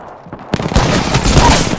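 Video game gunfire erupts after half a second of quiet, a loud, dense burst of rapid automatic shots that carries on to the end.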